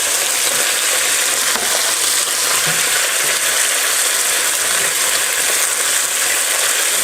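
Red peppers hitting hot oil in a beef stir fry with broccoli and mushrooms, a loud, close, continuous sizzle with faint clicking stirs and no talking.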